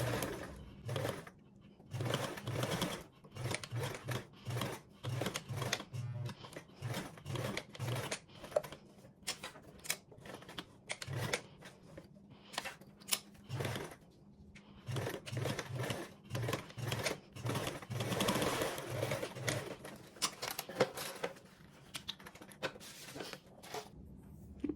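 Sewing machine running in repeated short bursts, stitching two rows back and forth along pockets with back tacks, mid-distance and fairly quiet, with faint handling clicks between runs.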